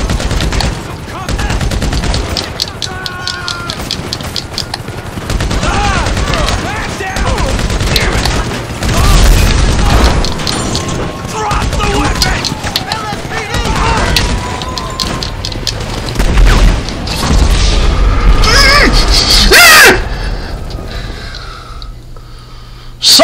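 Rapid gunfire and rocket launcher explosions in the video game GTA 5, dense bursts of shots and heavy booms repeating loudly across the whole stretch, with a voice talking excitedly over the chaos.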